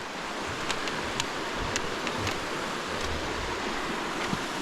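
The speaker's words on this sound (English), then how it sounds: "that's on the main channel running right there and there" River whitewater rushes along the main channel beside a trail, a steady broadband roar of moving water heard from a short distance, constant and unbroken with no talking.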